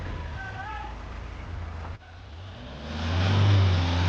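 A 4x4 off-road vehicle engine idles with a low rumble, then revs up loudly and steadily toward the end, near and dominant, with faint voices early on.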